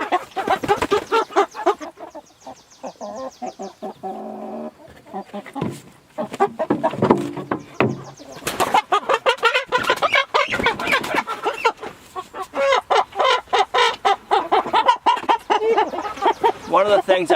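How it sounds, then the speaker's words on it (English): Rooster clucking and calling among pasture-raised chickens on a farm at butchering time, loud and close, in repeated bursts with people talking throughout. "That's a rooster."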